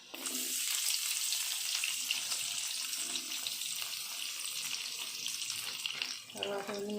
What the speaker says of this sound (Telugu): నూనె వేగింది. తర్వాత ఉల్లిపాయ వేసుకోవాలి ఫ్రెండ్స్.